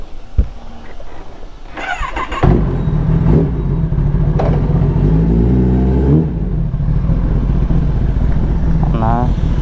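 A modified Kawasaki ZX-10R motorcycle being started, then rumbling loudly at idle and revving. A voice is heard briefly beforehand.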